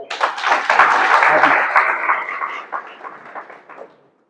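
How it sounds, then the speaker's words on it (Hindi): An audience at a network marketing seminar breaks into a burst of close, loud clapping that thins out and stops after about four seconds. "ताली बजाओ इन लोगों को"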